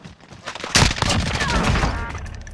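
Warzone gunfire breaks out as a rapid, loud fusillade of shots that keeps rattling for a couple of seconds with a dense, close crackle.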